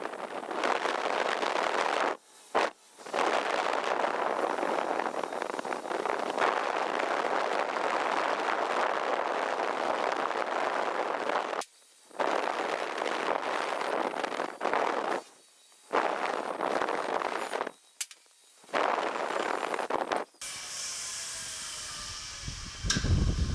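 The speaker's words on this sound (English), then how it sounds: "This wire wheel gets down into pretty tight spaces." A wire wheel on a power tool scours 1950 Chevy truck fender brackets, producing a loud, steady, close hissing grind in long bursts broken by several brief stops.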